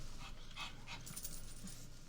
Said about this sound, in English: I brought a dog.